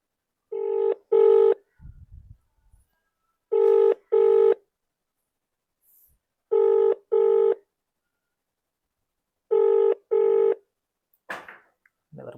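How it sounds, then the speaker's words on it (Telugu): An outgoing phone call rings on speakerphone: four evenly spaced double-burst ringback tones, loud and close, separated by silence, with a brief rustle near the end and no talking. "సో ఇంకోటి ఫోన్ చేద్దాం."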